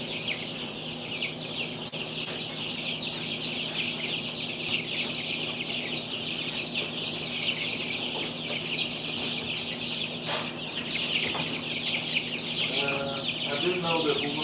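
A brooder full of baby chicks keeps up a dense, continuous chorus of high, rapid peeping close by, with a few louder individual cheeps and faint background movement throughout.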